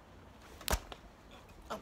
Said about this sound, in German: Hat es mir vor lauter Schminken gleich die Kamera runtergeschmissen.